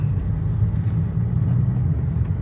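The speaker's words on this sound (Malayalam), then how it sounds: "ഇതൊക്കെ ലോങ് പോകുന്ന ബസ്സായിരിക്കും അല്ലേ" Low, continuous engine rumble of a bus rolling along a road in Kodaikanal town, steady and fairly close with no voices.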